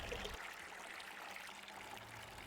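A reconstructed Roman water supply runs in a faint, steady trickle and pour that is quiet and continuous, with no voices.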